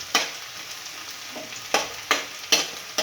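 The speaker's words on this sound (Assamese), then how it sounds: "নহৰু আদা পেষ্টটো ভালকৈ ভাজি ল'ব লাগিব।" Ginger-garlic paste sizzles in a pan for a chicken dish, a soft continuous frying hiss under five or six crisp spatula knocks spaced about half a second apart, close by and without speech.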